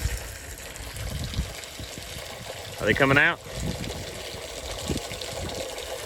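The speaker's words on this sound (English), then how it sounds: "We're gonna fill her up with some water. If I can aim the hose." A garden hose fills a water barrel with a steady trickling, gushing flow under a faint outdoor background, while a voice briefly asks a question midway.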